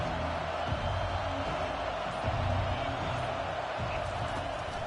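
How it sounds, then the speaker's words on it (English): A stadium crowd cheers steadily throughout at a college football game, a dense, loud roar with no breaks. "This crowd bringing an ear-splitting welcome to their visitors."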